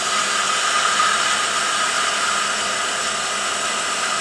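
A wood lathe spins steadily while a wine stopper is turned, producing a continuous loud, even whirring hiss with no talk.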